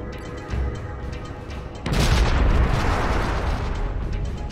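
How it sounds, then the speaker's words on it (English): Orbital bombardment in the strategy game Pandora: First Contact hits with a sudden heavy boom partway through, followed by a loud rumbling roll of explosions that stays dense and booming to the end. "Drop some orbital bombardment here."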